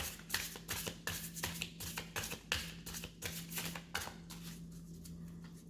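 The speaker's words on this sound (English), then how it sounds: "first I'm cleaning the cards" A deck of tarot cards is shuffled by hand to clear it, producing a quick, steady run of close riffling flicks and soft slaps in a regular rhythm, fairly quiet over a faint low hum.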